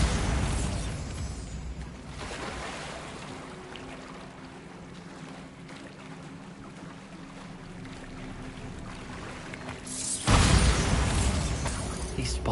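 Bombarda spell blast in Hogwarts Legacy, a rumbling burst at the start and a louder, sharper explosion near the end, with low game ambience and a spoken voice in between.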